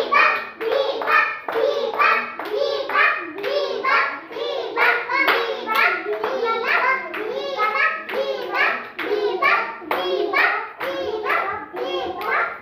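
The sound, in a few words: children clapping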